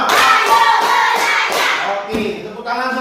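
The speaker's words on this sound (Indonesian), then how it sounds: "kita mulai ice breaking tepuk sampai 5. Tepuk 1, tepuk 2, tepuk 3, tepuk 4, tepuk 5." A primary school class claps hands together in a counted ice-breaker, giving a series of rhythmic group claps, loud and close, with pauses between the beats.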